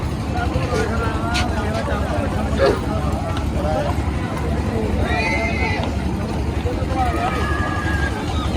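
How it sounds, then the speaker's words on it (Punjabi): A horse at a livestock market in Nabha gives a couple of whinnying neighs amid steady crowd noise and background chatter, the calls rising briefly above the busy hubbub. "ਲਓ ਬਈ ਨਿਗਾਹ ਮਾਰ ਲਓ ਇੱਕ ਵਾਰੀ ਬਹੁਤ ਹੀ ਸੋਹਣਾ ਘੋੜਾ"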